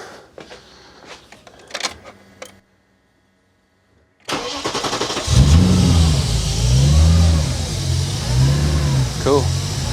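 An M60 engine cranks and catches after a few clicks and a pause, then idles and revs in repeated rising and falling surges, loud and close, with brief talk early on.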